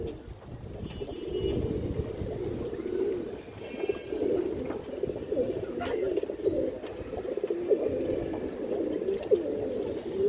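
Silver pigeons coo in low, throaty, repeated calls that overlap one another at close range in a continuous murmur, with faint background noise.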